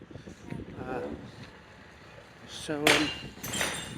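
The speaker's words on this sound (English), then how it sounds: "they're getting rid of all the glass from the aluminium doors and stuff" Glass is being knocked out of aluminium doors at a demolition site, with a few sharp clinks and crunches that peak near the end, under and between speech.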